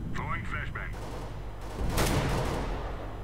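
Gunfire from the video game Counter-Strike: Global Offensive rings out as a loud burst near the middle, after a few short electronic game tones, with a lingering echoing tail.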